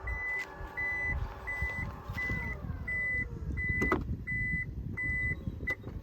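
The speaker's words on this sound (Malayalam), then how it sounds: "പവർ ടെയിൽ ഗേറ്റാണ് വരുന്നത്." The power tailgate of a Toyota Innova Hycross hybrid closes with a motor whine that slowly drops, while a warning beep repeats at a steady, even pace, close up, with no voices.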